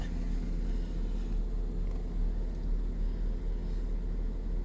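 A car engine idles steadily with a low, even rumble and no revving, continuous and fairly close throughout.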